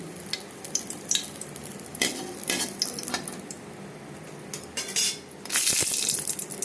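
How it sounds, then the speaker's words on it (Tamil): Green chillies, garlic cloves and a small piece of ginger fry in a pan, with a steady sizzle, metal utensil scrapes and stirring clatters that grow louder near the end, close by and with no talk. "ரெண்டு பச்சை மிளகா ரெண்டு பல் பூண்டு ஒரு சின்ன துண்டு இஞ்சி இதை வறுத்து எடுத்துக்கணுங்க வதக்கி எடுத்துக்கணும்"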